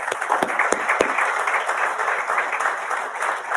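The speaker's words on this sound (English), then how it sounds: "I think you deserve a round of applause for what you do." Audience applause in a hall at an Army installation closing session, dense continuous clapping from a large crowd, fairly loud and steady throughout with no talking.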